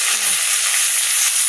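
Ghee hisses and sizzles loudly in a hot pan, a steady dense frying crackle filling the short moment without pause.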